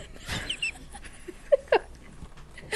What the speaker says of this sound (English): That's not his mean growl, though. All right. That's his playful growl.